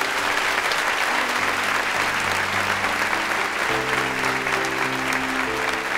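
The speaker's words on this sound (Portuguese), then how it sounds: "Você pode aplaudir o Senhor por isso?" A church congregation applauds the Lord with steady, dense clapping from many people, while low sustained musical tones play underneath.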